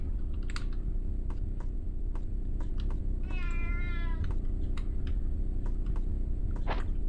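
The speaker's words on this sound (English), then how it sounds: "Let's find that kitty." A cat meows once, clear and mid-distance, in the video game Shogo: Mobile Armor Division, over a constant low game hum with scattered keyboard clicks and another brief cry near the end.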